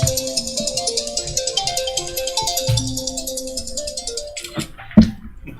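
A mobile phone ringtone plays during a county planning commission meeting, a steady looping electronic melody that runs for several seconds at moderate loudness before cutting off with a brief clatter.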